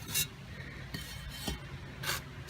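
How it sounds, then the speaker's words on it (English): Short abrasive rasping strokes of sandpaper on kiln key bricks, about four of them, scraping against the hard brick surface at close range with quiet pauses between. "I'm just sanding with my sander until I get them to fit perfectly"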